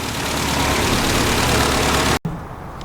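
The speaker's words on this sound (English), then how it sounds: "it only appears to be running on one carb" A Classic Mini 1071 S engine idles roughly while running on only one carburetor, a loud steady close-up rumble that cuts out abruptly near the end before a quieter tail.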